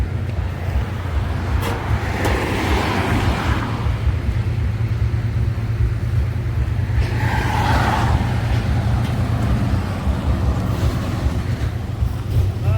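A Deca 320 truck reverses into position, its heavy engine rumbling steadily throughout with a loud low drone and occasional rises in revving, no speech over it.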